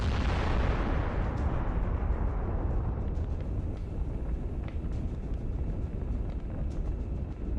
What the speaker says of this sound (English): Once it is hit, the shells for the 125mm gun will ignite and cause a spectacular explosion.